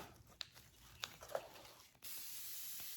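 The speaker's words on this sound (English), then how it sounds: "there's my temporary spray" A steady aerosol spray of temporary fabric adhesive hisses continuously, loud and close, after a few short rustling sounds.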